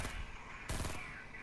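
Gunfire in the video game Fortnite, a loud burst of shots cracking out around the middle of a short stretch of dense game noise, with no talk.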